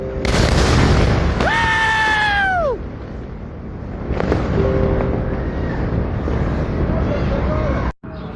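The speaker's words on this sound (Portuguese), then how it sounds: "Impressionante essa explosão." A large explosion at a military base in Iran, heard as a loud booming rumble with wind buffeting the microphone. A person reacts with rising and falling vocal cries partway through.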